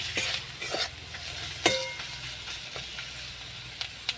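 Taro stolons stirred and sautéed with shrimp and chilli powder in a pan, a steady close sizzle under repeated scraping strokes of a spatula, with a few sharper clinks against the metal.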